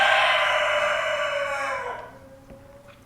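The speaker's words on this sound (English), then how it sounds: "shoot that fucking cockerel" A cockerel crows one long, loud, drawn-out call that fades away near the end, with no other sound alongside it.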